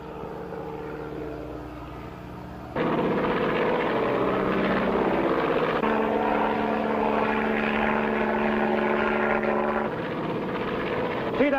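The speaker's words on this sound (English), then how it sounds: "That must be the plane the Indians saw coming down." A seaplane flies overhead near a hunting lodge, its propeller engine droning loudly, jumping up in level and holding a steady roar throughout, alone.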